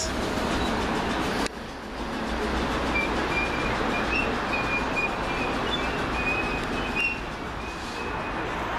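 Southern Railway passenger train, the 14:32 service from Sutton to London Victoria, passing at West Norwood: loud, steady rumble of wheels and carriages running close by for the whole stretch, with faint wheel squeal and a brief dip near the start.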